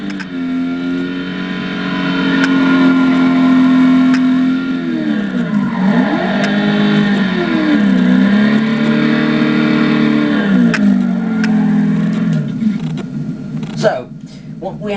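Ford Shelby Mustang GT500 with an unrestricted exhaust revving hard, the engine note swinging up and down through several throttle sweeps before tapering off near the end, loud and close.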